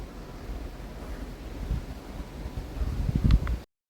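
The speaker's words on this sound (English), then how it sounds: "That's how strong the wind's been today." Strong wind on an outdoor hill walk buffets the microphone in a continuous low roar that swells near the end before cutting off abruptly.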